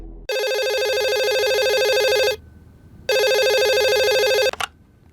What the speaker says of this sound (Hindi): वो बल्लू का फोन आया था।